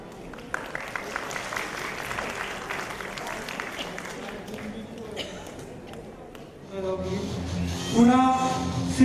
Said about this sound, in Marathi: प्लीज एक जोरदार टाळ्या जाऊ दे.